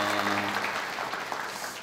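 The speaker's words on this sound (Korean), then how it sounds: "박수 한번 예, 보내주세요" Audience at a monthly assembly applauding farmers, a dense, steady wash of many hands clapping for about two seconds, fairly loud and unbroken.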